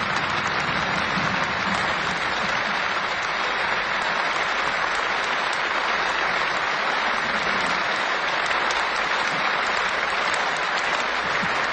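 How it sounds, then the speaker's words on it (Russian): Thunderous, sustained applause from deputies and guests of the USSR Supreme Soviet greeting the unanimous adoption of the Soviet Constitution, a dense steady roar of clapping filling the hall without pause and with no voices rising above it. "Депутаты и гости бурной овацией приветствуют вступление в силу основного закона советского государства"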